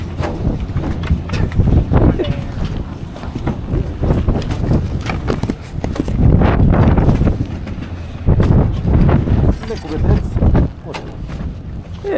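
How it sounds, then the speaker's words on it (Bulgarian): Strong gusting wind buffets a microphone on a ski slope in severe mountain weather, a loud continuous roar that swells and drops over several seconds with faint voices underneath. "Това е вятър."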